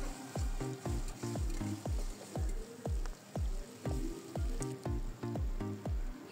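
Duck meat stir-fried in a pan with onion paste, cumin, garam masala paste and ginger-garlic paste, close and steady, with a sizzle under repeated rhythmic scrapes and knocks of the spoon, about two per second.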